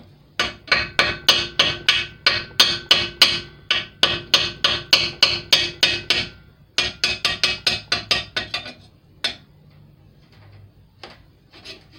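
A hammer strikes steel in rapid, steady runs of sharp metallic blows, knocking a freeze plug out of a Ford 300 inline-six engine block, close and loud, with a brief pause midway and a few scattered final hits.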